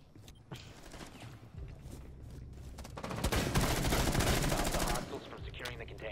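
Gunfire in the video game Rainbow Six: scattered single shots at first, then a dense sustained burst of rapid fire for about two seconds, moderately loud over game ambience.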